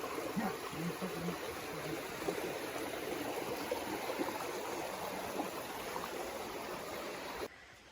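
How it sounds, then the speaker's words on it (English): A small creek flows steadily after rain, a constant soft rushing wash of water heard fairly faintly outdoors, unbroken until a slight drop at the very end. "It just rained, so the creek's flowing pretty good."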